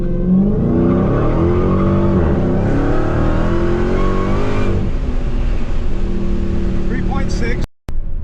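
A Dodge Challenger Hellcat Redeye Super Stock accelerating hard through a 0-60 run, heard as a loud, close engine roar rising through the revs with a gear change before cutting off sharply near the end, with a voice underneath.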